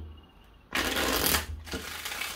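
A Lenormand card deck handled and shuffled up close, a soft papery riffle that starts abruptly, runs for about a second, pauses briefly, then resumes over a low background hum.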